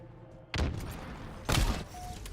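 Two sharp, loud sniper rifle shots ring out about a second apart in a Halo match, each a sudden crack with a short decaying tail over quiet game ambience.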